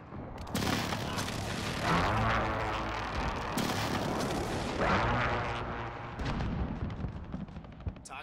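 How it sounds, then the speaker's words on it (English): Precision airstrike explosions land in Call of Duty Modern Warfare multiplayer, a string of loud booming blasts with rumbling tails, roughly three big hits spaced a couple of seconds apart and crackling debris after them. "Friendly precision airstrike inbound."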